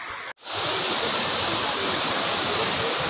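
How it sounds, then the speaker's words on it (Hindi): Rupi Raila waterfall near Sainj, a steady, loud roar of falling water filling the whole clip after a brief cut at the start, broadband and continuous with no voices. "आ गया जी हमारा वाटरफॉल"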